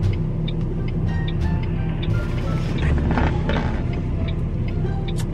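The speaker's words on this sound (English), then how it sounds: "Damn, these cars are going so fast." Fast cars rush past on a road in a steady, loud stream of engine and tyre roar, with one sweep surging louder near the middle; a faint ticking sits over the traffic and a voice speaks briefly.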